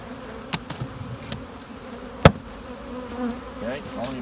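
Honey bees hum in a steady, close swarm around an open hive, with a few sharp knocks and clicks of hive equipment breaking through.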